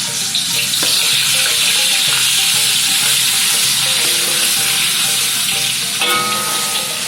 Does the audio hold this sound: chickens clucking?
no